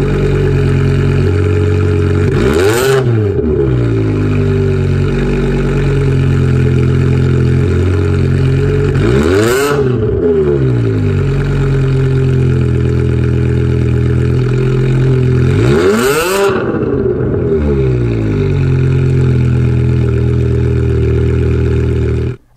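A loud car engine runs continuously close up, with a deep steady rumble and three sweeping surges in pitch spaced several seconds apart.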